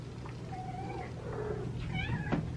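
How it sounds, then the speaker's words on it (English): Several cats meow indoors at a house, a few overlapping drawn-out calls rising and falling, close and moderately loud over a steady low background hum. "I'm going to open the gates and let the cats out"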